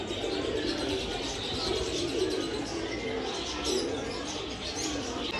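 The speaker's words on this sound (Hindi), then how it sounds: "देखिए काफ़ी सारे कबूतर हैं अंदर" Pigeons in a small zoo enclosure coo and chirp steadily through a busy, noisy outdoor background, with no clear talking.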